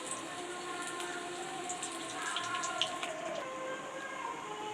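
Steady crackling and sizzling of vegetable kola urundai balls frying in hot oil, with fine popping bubbles throughout, fairly quiet and close.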